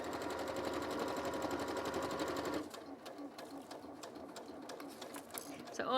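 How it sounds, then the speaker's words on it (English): A sewing machine stitches around the outside of a fabric bag with a 1/4 inch seam allowance, whirring steadily and loudly for about two and a half seconds, then dropping to quieter intermittent mechanical clicks and rustling. "So all I'm doing now is to just sew around the exterior of the bag."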